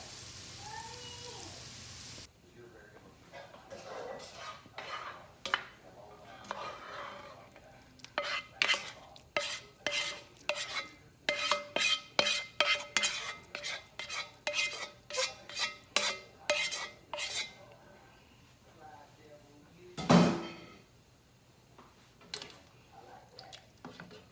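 Cooked Thanksgiving dressing mixture being scraped and spooned into a cornbread mixture, a rapid series of clinking utensil scrapes and clatters against a pot and bowl, with one louder knock near the end.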